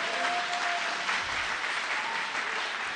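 Applause from a church congregation acclaiming the Lord, a steady dense clapping that fills the whole stretch without letting up, close and fairly loud, with no speech over it.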